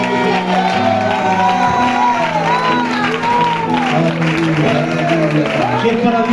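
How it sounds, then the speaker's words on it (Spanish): Church congregation applauding loudly and continuously, mixed with shouts and whoops of praise from the crowd, with a voice speaking over the noise. "Si es para Dios ese aplauso"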